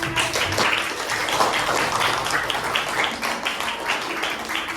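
Classroom applause for a group of sixth-grade students, a burst of many hands clapping at a lively, uneven pace, fairly close and continuous throughout.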